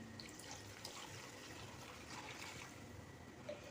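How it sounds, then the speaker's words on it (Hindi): Yakhni stock is poured into a pulao pot as a soft, continuous watery trickle and splash, faint and steady for a few seconds with no voices. "और 1 लीटर हम डालेंगे यखनी"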